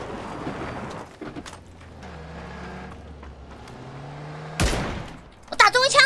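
Gunfire in the battle game PUBG, sharp bursts of shots ringing out amid vehicle engine rumble, with a loud close volley near the end while players talk.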